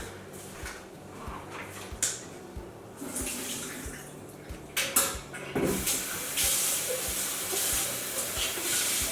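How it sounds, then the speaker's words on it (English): Tap water runs over pumpkin seeds as they are strained and rinsed, with intermittent clatter and splashing that builds into a steady stream toward the end, no talking. "I'm going to go ahead and strain and rinse out the seeds"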